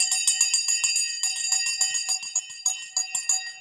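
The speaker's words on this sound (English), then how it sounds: "Let's ring the bell." Stock market opening bell ringing at the start of a trading session, a rapid, continuous metallic clanging with bright sustained overtones, loud and steady throughout with no talk over it.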